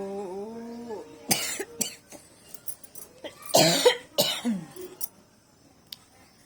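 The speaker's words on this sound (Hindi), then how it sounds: "मुझे खांसी आ रही है फ्रेंड्स।" A person coughs several times in harsh, uneven bursts, clearing the throat between them, after a brief hummed vocal tone at the start.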